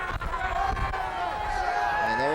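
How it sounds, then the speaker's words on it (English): A homecoming night crowd at a high school football game at Rochester Adams buzzes and cheers in a broad, sustained roar, with a commentator's voice carrying over it. "The crowd exceptionally fired up tonight."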